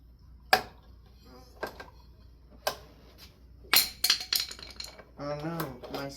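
A screwdriver drops during a ceiling fan replacement and clatters in sharp metallic clinks and knocks, several separate impacts spread over a few seconds, followed by a voice talking near the end.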